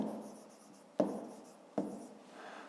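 A pen writes numbers on paper, giving a faint, steady scratching broken by two sharp taps as strokes begin, close and quiet with no talk.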